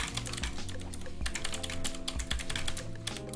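Steady, fast typing on a mechanical keyboard fitted with grey switches, a dense run of close, crisp key clacks with no pauses and no voices over them.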